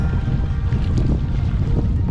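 A fishing boat's hull slaps against choppy waves on Paulina Lake in Oregon, making dense, continuous low thumping and splashing under heavy wind buffeting on the microphone, loud and close.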